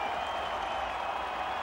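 Canadian rugby fans cheering and applauding in a stadium after a long successful kick against Italy, a dense, steady roar of crowd noise filling the whole moment.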